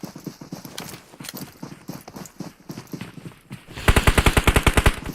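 Video game gunfire from an M24 bolt-action rifle and other weapons in a competitive match, scattered shots at first, then a rapid loud burst of repeated cracks near the end.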